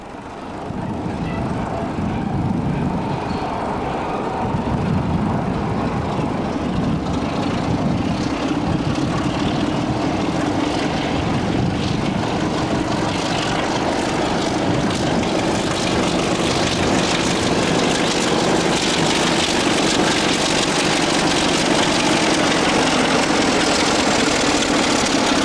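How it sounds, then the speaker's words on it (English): A freight train locomotive pulls away from Paddock Wood after coupling on the Hoo Junction to East Peckham working, its diesel engine a steady, loud drone with a rising tone throughout, heard alone without speech. "After some quick coupling by trainman Simon Phillips, we're off again"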